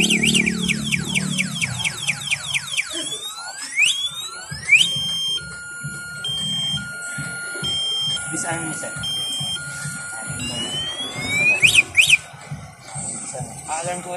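A sweeping, warbling electronic alarm tone repeats several times over a steady low background, with people talking throughout.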